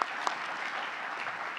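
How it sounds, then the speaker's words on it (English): A seated audience applauds the winners of the New Venture Competition, a steady wash of many hands clapping at moderate volume that holds evenly throughout, with no voices over it. "Let's have another round of applause for the winners of the New Venture Competition."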